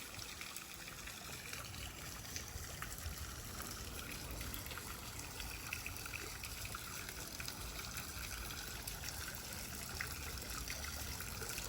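A central garden water feature trickling and splashing continuously at close range, a soft steady flow with no voices.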